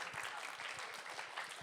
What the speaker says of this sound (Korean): 박수로 한번 시작해 볼까요?